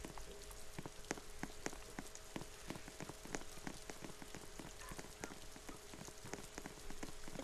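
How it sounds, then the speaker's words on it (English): Rain falls steadily on a car, a dense patter of individual drops ticking against the body and windows with a constant hiss underneath, close and even throughout with no talking. "It's a really rainy day."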